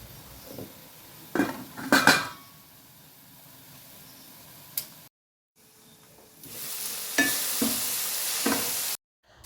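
Sardines and tomatoes cooking in a pan: a faint sizzle with utensil clinks and stirring scrapes, then a louder hiss of frying near the end.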